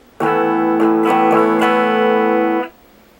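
A single bright, sustained guitar chord rings out after a few quick strummed attacks, holding steady for about two seconds before cutting off.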